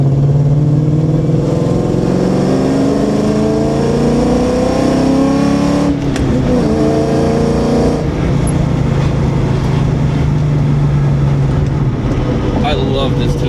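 Car fitted with a swapped Ford Coyote S550 V8 engine driving in traffic, a loud steady engine drone with rising and falling tones throughout, and someone talking over it.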